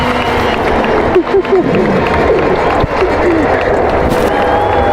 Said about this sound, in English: Just as the applause began to swell, he felt a tap on his shoulder.